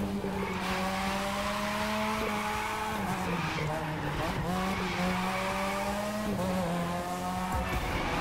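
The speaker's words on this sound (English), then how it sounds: "Listen to those engines roar." Race car engines roar loudly and continuously in The Crew 2 during a drift event, with a sustained, shifting engine tone, rising and dropping revs, and faint tire squeal, close and steady throughout.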